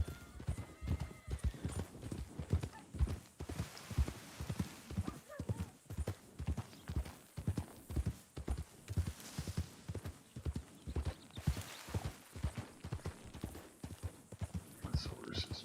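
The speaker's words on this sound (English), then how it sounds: "This horse is just a beast. Riding a Cadillac." Horse hooves clip-clop in a steady trotting rhythm while riding in a video game, with occasional snorts and a whinny over soft background sound.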